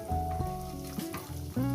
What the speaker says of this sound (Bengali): দিয়ে আমি আলুগুলো প্রথমে ভেজে নেব।